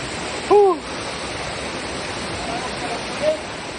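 Steady broadband rush of a waterfall pouring into a pool, continuous and fairly close, with a brief voice-like call or whoop rising above the water noise near the start and again near the end.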